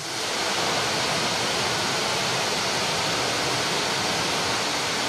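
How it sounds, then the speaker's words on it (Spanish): La Plata waterfall roars as a steady, dense rush of falling water, loud and unbroken throughout, with no voices over it. "El rugido de la cascada La Plata es un espectáculo reservado."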